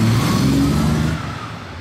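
Ferrari 275 GTB driving past at a car-spotting event, a loud close engine rumble that sweeps by and fades within about two seconds, with no talking over it.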